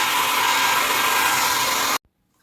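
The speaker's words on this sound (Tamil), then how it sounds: "ஸோ நான் யூஸ் பண்ணுற ப்ளோ ட்ரை வந்து இதுதான்." Panasonic hair dryer blowing steadily and loudly up close for about two seconds, then switched off abruptly into near silence.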